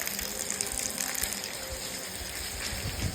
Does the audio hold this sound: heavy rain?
yes